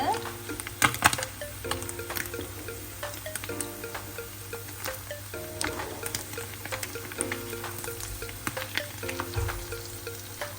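Anchovies fry in hot oil with a soft, steady sizzle, broken by occasional clinks and stirring scrapes, fairly faint and close.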